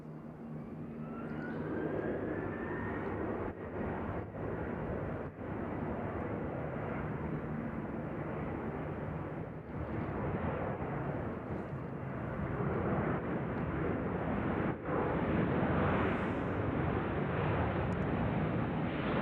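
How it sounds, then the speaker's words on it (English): An Airbus A319 jet airliner arriving from San Francisco lands at Nashville on a windy day, its engines giving a loud, steady roar that holds throughout and swells slightly toward the end, with wind noise mixed in. "A319 from San Francisco."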